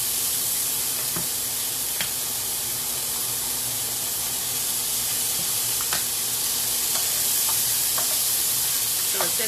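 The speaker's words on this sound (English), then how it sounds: "I am browning this on the bottom" Onions sizzle and fry steadily in a hot pan for a chicken stir fry, giving a loud, continuous close hiss with occasional faint clinks and stirring.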